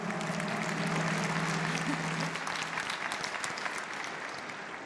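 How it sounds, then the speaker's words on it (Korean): An audience at a national prayer meeting for peace applauds in a steady, dense wash of clapping that holds evenly and then gradually tapers, heard fairly faintly with a few voices beneath. "박수로 축하해 주시기 바랍니다."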